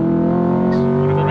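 Corvette C8 Stingray V8 on a track holds a steady, deep engine drone with rich harmonic tones, heard close from inside the car for a brief moment, with a faint voice over it.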